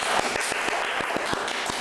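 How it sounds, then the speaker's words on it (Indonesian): An audience applauds at a student association event for a newly elected management program director, a steady dense patter of many hands with a few sharper claps, fairly close and continuous, with faint voices mixed in. "Tepuk tangan teman-teman."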